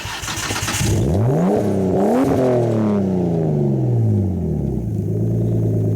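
A turbocharged RB25 engine in an R32 Nissan Skyline drift car revs hard twice, the pitch sweeping up and falling back before settling into a rough idle, loud and close.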